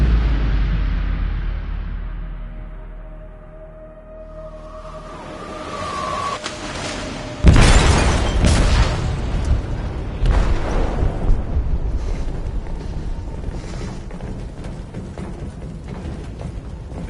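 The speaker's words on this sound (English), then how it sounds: "They detonated an explosive in the hold." A loud explosive blast detonates inside a ship's hold in a video game, a sudden heavy boom after a quieter stretch, followed by a long rumbling, crackling roar of debris and fire.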